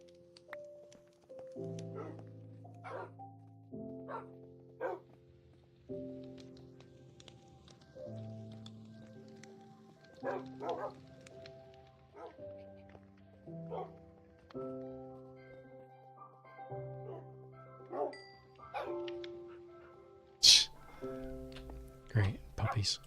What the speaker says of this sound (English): Great puppies.